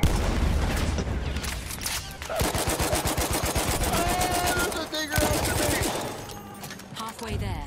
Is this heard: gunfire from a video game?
yes